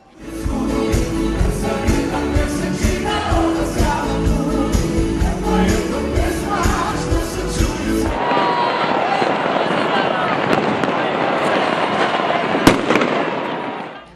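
New Year fireworks over a Balkan city square crackle and pop in a dense, continuous barrage, loud and steady, blending with a distant crowd, with one sharp burst near the end.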